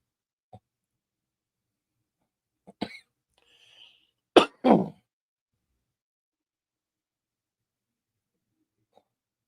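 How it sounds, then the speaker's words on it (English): A few sharp coughs ring out close by, separated by silence, with a pair of louder harsh coughs in the middle. "Pardon the cough is going to be here the whole stream"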